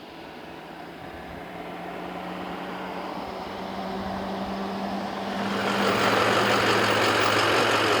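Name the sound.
ice rink tractor engine idling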